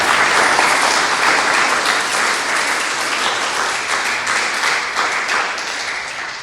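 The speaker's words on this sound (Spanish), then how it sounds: "Dale un aplauso al Señor, es para Él." A church congregation claps for God after a prayer in a Spanish-language service, the applause dense and steady throughout and easing only slightly toward the end.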